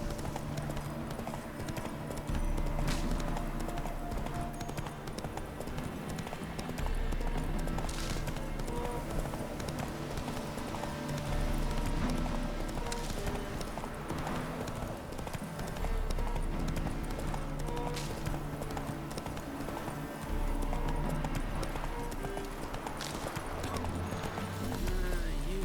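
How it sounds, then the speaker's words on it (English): A horse's hooves clip-clop steadily at a brisk pace in the video game The Witcher 3, running continuously under a dense layer of game background sound. "Whoa there, Roach."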